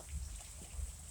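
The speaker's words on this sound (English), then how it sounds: "It's a rainy day." Steady rain falling on a wet evening by a railway line in Columbus, Georgia, a soft even hiss with faint low rumbles underneath, no voices.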